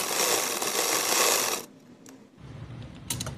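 Sewing machine stitching a seam alongside fusing on a boat neck, a steady close mechanical whir that runs loud for about a second and a half, then drops away to quieter handling noises and brief clicks.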